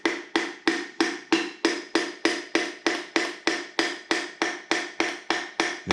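Repeated hammer whacks driving a piston into a 6.0 LS V8 engine, about fifteen sharp, evenly spaced metallic strikes close by, each with a brief ringing decay, and no talking.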